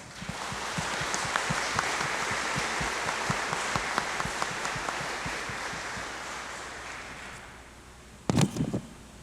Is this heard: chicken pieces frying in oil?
no